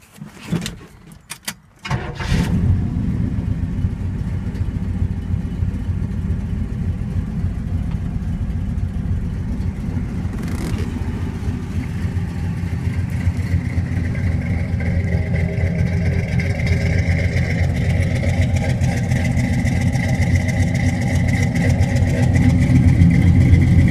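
A 1970 Chevrolet Chevelle with an all-metal body, sitting unused for four years, cranks briefly and fires, then settles into a steady, loud, rumbling V8-style idle up close, with no one speaking.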